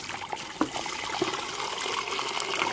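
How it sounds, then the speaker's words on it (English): Hot water is poured into a Nesco smart canner for a water bath, a steady close trickle and splash of liquid running for a few seconds with faint bubbling, no voices. "then I'll add the water and do the rest of it"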